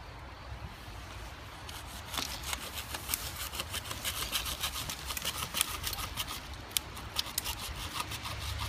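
A knife's built-in saw blade cuts back and forth through a tree limb, producing a steady rasping, scraping stroke pattern, close and moderately loud with no talking.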